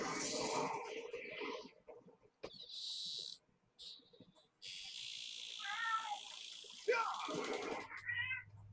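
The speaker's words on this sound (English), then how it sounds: "That's my cat." A domestic cat meows several times close by, with short bright cries scattered among quieter gaps and a voice talking in between.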